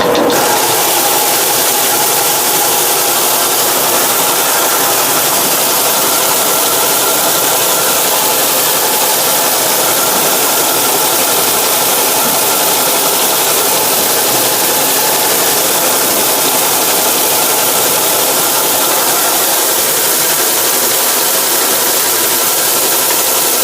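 A rice color sorting machine runs with mixed black and white rice loaded in, giving a loud, steady mechanical whir and hiss that holds constant throughout with no talk.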